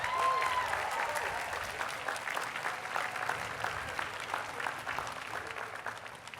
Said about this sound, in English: a special round of applause for all the mothers who are here celebrating their Emory graduates